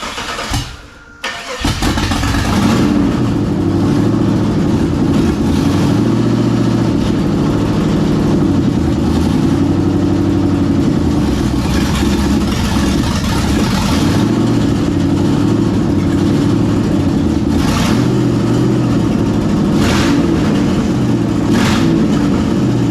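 A Jeep's LS V8 engine with stock exhaust cranks and starts, then idles with a steady low rumble, rising in a few revs throughout, loud and close.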